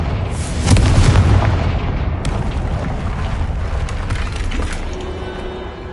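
A fire blast spell in Hogwarts Legacy explodes with a heavy, booming blast, followed by a rumbling, crackling decay that trails off over several seconds.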